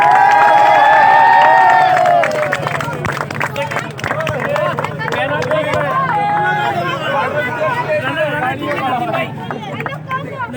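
A crowd at an outdoor cricket award ceremony makes a noisy babble of voices with some clapping and cheering, steady and loud throughout, with a voice speaking over it.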